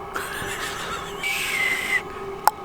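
A thin, wavering whistle rises and sags over breathing-like hiss, ending with a short sharp squeak; a voice imitating a whistling nose, close and quiet.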